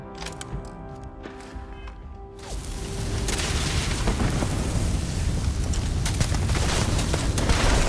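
Explosions in Starfield: quieter mechanical tones at first, then a heavy booming blast that swells into a continuous loud rumble with crackling bursts.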